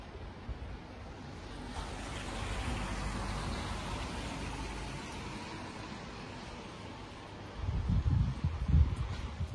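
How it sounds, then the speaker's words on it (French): Soft, continuous patter of rain with a broad hiss, quiet and steady, with a louder rumbling burst of passing noise near the end. "il pleut, c'est un temps de merde"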